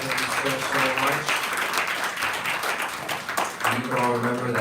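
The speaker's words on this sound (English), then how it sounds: "Round of applause for" Steady, dense audience applause fills a Janmashtami gathering at a Bhakti Center hall, a continuous wash of many hands clapping, with a voice speaking over it near the end.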